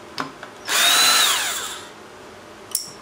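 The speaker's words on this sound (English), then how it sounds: "Let's see how it works in the screwdriver." A cordless power screwdriver spins up once, a close, loud whirring run of about a second that winds down with a falling pitch, framed by a few small clicks of handling.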